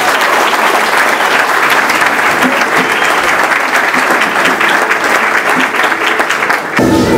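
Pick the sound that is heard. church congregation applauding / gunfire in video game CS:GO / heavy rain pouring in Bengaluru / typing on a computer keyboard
church congregation applauding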